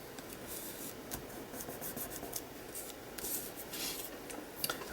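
Steady dry rubbing of fabric over a crafted Halloween art tag, a soft continuous scuffing texture with faint gritty strokes, close and quiet with no talk.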